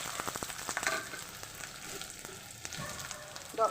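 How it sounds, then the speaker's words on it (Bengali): Chopped onions frying in oil in a kadai for chicken curry, a soft, steady sizzle with a run of quick spatula taps early on and occasional scrapes, fairly faint and without talk. "পেঁয়াজটাকে লাল করে ভাজতে ভাজতে আপনাদের দেখিয়ে দিই।"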